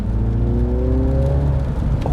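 A 2019 Mini John Cooper Works Clubman in sport mode gives a steady, loud engine drone with a rising pitch as it pulls, the exhaust rumbling throughout and a small pop near the end.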